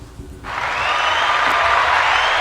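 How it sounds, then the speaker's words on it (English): An audience breaks into applause at a live show, rising quickly from a quieter start into a sustained, dense wash of clapping that continues to the end. "It's the applause"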